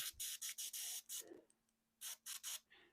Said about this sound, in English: Are we spraying? Yep, we're spraying.